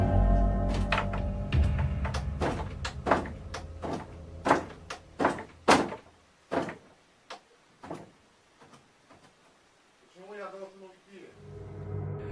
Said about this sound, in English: We witness another video of doors slamming repeatedly on their own